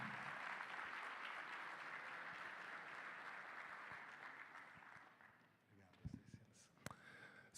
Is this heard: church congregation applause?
yes